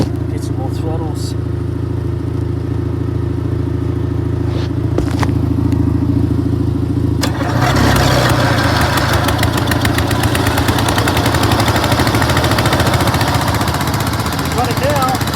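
A 6x4 ride-on mower engine sputters, then catches and runs loudly, revving up under more throttle at close range while voices talk over the running motor.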